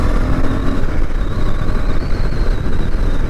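A KTM 390 Adventure motorcycle engine hums steadily while riding, a smooth, even drone mixed with rushing wind noise, continuous and fairly loud with no talk.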